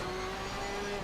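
A race car engine in a sim racing game hums at a steady, sustained pitch, a continuous drone heard alone for about a second.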